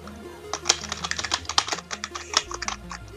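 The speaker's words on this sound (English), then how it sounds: "Yeah, that's my keyboard." Keys on a computer keyboard clatter in quick, irregular bursts of sharp clicks, close and fairly loud, with background music playing underneath and no speech.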